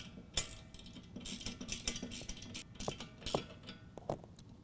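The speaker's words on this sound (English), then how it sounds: "we're going to take our flat washer and our nylock nut and put that in place, and we're going to tighten that down" A nylock nut with a flat washer being tightened down onto a bolt while installing a BackRack Original headache rack on a 2019 Chevy Silverado truck bed, giving a run of close, quick ratcheting clicks and small metallic ticks with no talk.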